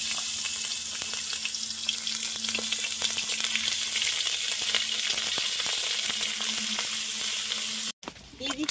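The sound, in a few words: ginger and green chili paste frying in nigella seed tempering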